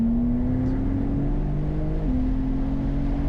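A 2025 BMW M2 pulls hard at full throttle on a track, its engine note a loud, steady drone rising in pitch, with a quick shift dip about two seconds in before the note climbs again.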